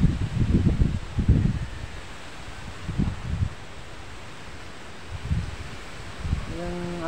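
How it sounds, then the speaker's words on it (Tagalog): Strong Typhoon Kristine wind rushes through leaves in the Visayas, a steady loud rustle with gusty swells and buffeting on the microphone. "grabe, ang lakas ng hangin ng Bagyong Christine."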